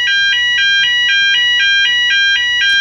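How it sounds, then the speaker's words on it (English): A water-contact sensor alarm triggered by dipping into water sounds a loud, rapid electronic beeping, about ten evenly pulsed high tones repeating steadily and close. "immediately sets off the alarm."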